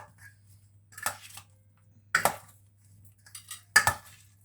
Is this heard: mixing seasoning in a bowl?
yes